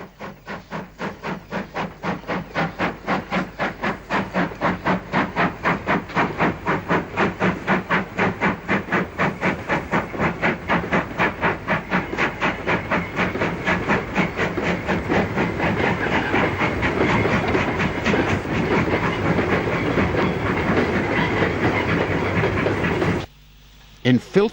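British Railways Standard Britannia Pacific 70034 Thomas Hardy, a 1951 design in filthy condition, hauls empty coal wagons with a loud, rapid, steady steam exhaust beat and rail clatter, then the sound cuts off abruptly near the end.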